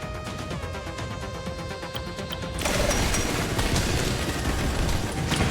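Rapid turret machine gun fire in the Drill Core roguelite video game, a dense continuous crackling burst that swells louder partway through and keeps going steadily to the end.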